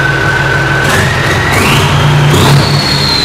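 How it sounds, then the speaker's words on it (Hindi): A tractor engine roars loudly up close, its pitch rising as it revs higher over a few seconds amid continuous mechanical rumble. "ट्रैक्टर स्टार्ट कर दे भाई"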